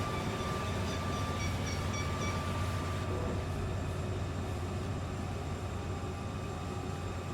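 Siemens Vectron electric locomotives haul a heavy train up a forested grade, a steady, continuous rumble and drone with faint tonal whine, heard from a distance and unbroken throughout.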